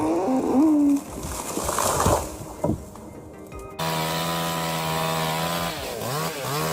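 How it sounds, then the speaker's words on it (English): A small chainsaw felling a tree: bursts of revving and cutting, then a steady high-pitched buzzing drone, loud and close. "This is the image of efficient logging, smoothly exploited with a small chainsaw."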